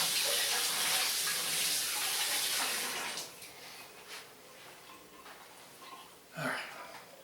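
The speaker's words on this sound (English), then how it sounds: "After a quick rinse of the hands." Hands are rinsed under a running kitchen tap, the water hissing loudly for about three seconds before cutting off, followed by faint handling noises and a brief splash.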